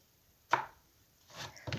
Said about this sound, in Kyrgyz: Баклажандарыбызды туурап башка идишке салып алабыз.